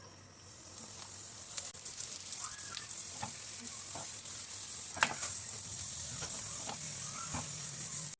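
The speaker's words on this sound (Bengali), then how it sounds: "আমি সরষের তেল দিয়ে ভাজছি" Egg and potato parathas fry in mustard oil in a pan, giving a steady close sizzle broken by scattered pops and soft stirring clicks, with no talking.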